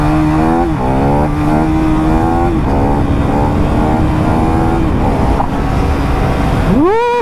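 A 2025 KTM Duke 390 single-cylinder motorcycle engine runs hard during a wheelie run, with loud, close revving that rises through repeated gear changes and a sharp rev surge at the end, no talk.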